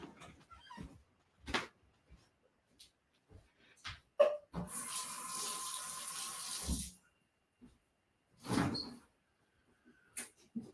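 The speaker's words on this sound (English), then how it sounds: "Let me just pour a tea." Tea pours from a pot into a cup for about two seconds, a steady splashing stream up close, surrounded by quiet clinks and handling noises of cups and crockery.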